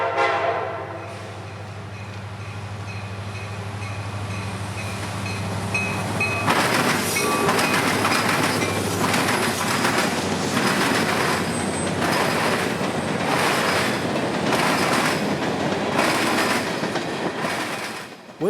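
Freight train led by a pair of SD70 locomotives with an ES40 behind, passing with a low engine rumble that swells into loud, rhythmic clattering of wheels over rail joints, heard alone.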